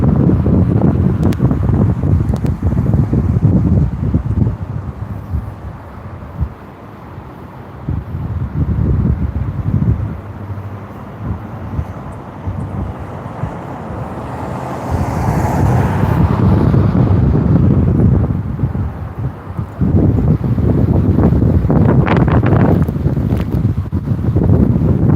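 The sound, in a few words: wind blowing on the microphone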